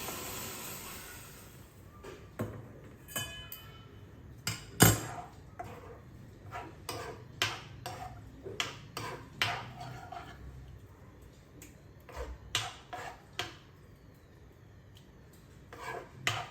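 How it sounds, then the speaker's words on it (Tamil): Chettinad okkarai mixture being stirred into boiled jaggery syrup in a pot, a string of irregular knocks and scrapes from the stirring, moderately close, with a faint hiss under them and no talking. "அணைச்சிட்டு அந்த ஒக்கார இதில் கொஞ்சம் கொஞ்சமாக விட்டு கிண்ட போகிறேன்."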